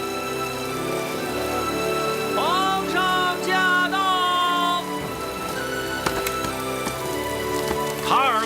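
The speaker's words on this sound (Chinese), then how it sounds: "除非以丹拿伞出来，否则我就继续在这淋雨。" Steady rain pours in a Chinese period drama scene, a constant wash of falling water under swelling melodic music tones.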